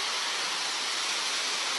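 A waterfall in the Philippines roars as a dense, unbroken broadband rush of falling water, loud and steady throughout with no voices over it.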